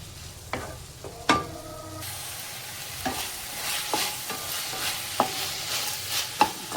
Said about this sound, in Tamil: இது இப்போ நல்லா வதங்கட்டும்.